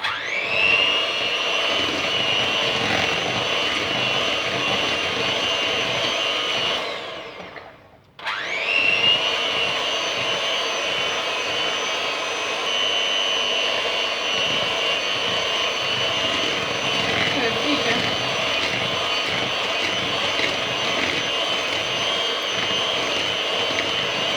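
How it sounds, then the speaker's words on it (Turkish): An electric mixer whisks parsley and cheese cake batter with a loud, steady high whine. It cuts out briefly, then spins back up and runs continuously. "Şimdi yeniden çırpıyoruz."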